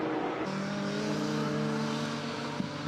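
Marcos and Ginetta GT race cars at Brands Hatch, their engines droning steadily at a distance with a sustained tonal whine across the whole stretch.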